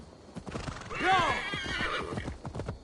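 A horse in Assassin's Creed Valhalla whinnies loudly with a rising and falling call, over steady rhythmic hoofbeats and low background ambience.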